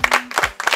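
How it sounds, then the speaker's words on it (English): An audience claps at an eating competition in a short, uneven burst of a few quick claps, fairly close. "Let's give it a clap."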